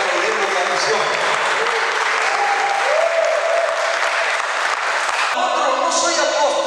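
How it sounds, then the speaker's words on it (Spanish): Church congregation applauding during a sermon, a dense, steady wash of many hands clapping that stays loud throughout, with a faint tonal sound briefly underneath and a slight shift near the end. "Oye, están aplaudiendo la misión."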